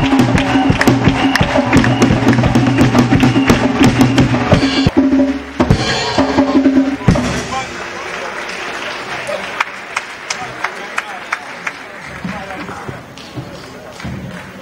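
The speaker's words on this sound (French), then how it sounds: "Acclamons pour Jésus-Christ." A church congregation applauds and cheers in praise, loud dense clapping with a musical tone underneath that fades after about seven seconds into scattered claps and lighter crowd noise.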